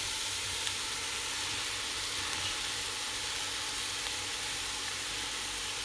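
Lentils tipped into a hot pan and stirred, an even, fairly quiet hiss of frying that holds steady throughout with no distinct knocks or voices.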